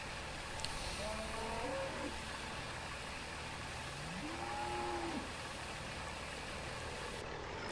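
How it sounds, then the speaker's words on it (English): Cattle in a farming video game let out two drawn-out, fairly faint moos a few seconds apart over a steady engine-like idling hum, with no talking. "Because the cows are hungry, hungry animals."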